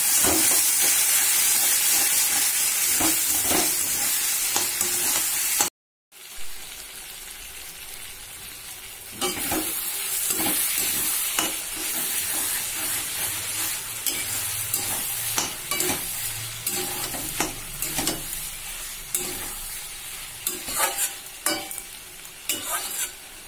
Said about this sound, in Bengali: এবারে মশলা ধোয়া জলটা আমরা দিয়ে দেব আর হালকা আছে ঢেকে ঢেকে ভালো করে কষিয়ে নেব